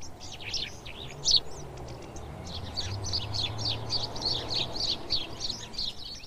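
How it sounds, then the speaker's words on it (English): House sparrows chirp busily in a garden, a flock of bright, repeated cheeps overlapping in a constant chatter over a low background rumble. "House sparrows"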